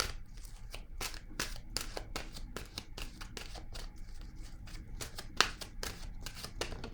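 A deck of tarot cards is shuffled by hand in a quiet room, a run of crisp, rapid riffles and soft slaps with one sharper snap near the end, close and fairly faint.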